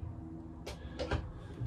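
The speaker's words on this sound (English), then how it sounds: "a metal sliding hatch." A metal sliding hatch on a narrowboat is worked close by, giving a short scraping slide followed by a couple of sharp metallic knocks, with a quiet background.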